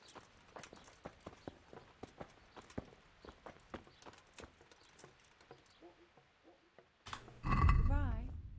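A horse walks in Kingdom Come: Deliverance, its steady clip-clop hoofbeats coming close and fairly loud for about seven seconds. A sudden burst of louder, rougher noise follows at the end.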